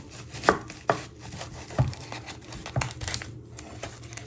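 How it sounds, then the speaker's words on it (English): A knife chops through an onion on a cutting board in a home kitchen, with a handful of sharp, separate knocks spaced about a second apart and crinkly rustles of skin between them, close and clear, with no speech. "Then you're going to chop it down the middle."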